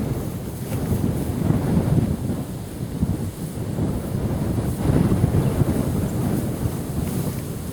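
Wind blows outdoors at a shooting range, gusting hard across the microphone in a loud, rumbling, steady roar that surges and eases without a break.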